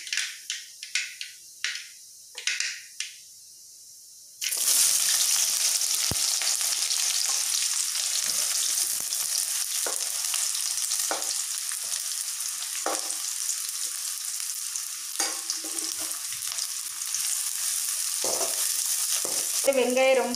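Onions hitting hot oil where mustard seeds have already spluttered set off a loud, steady sizzle that holds from a few seconds in to the end, preceded by short scraping stirs. No voices.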